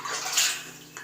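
Water sloshes and splashes briefly in a hole being dug for treasure, two short wet bursts close by.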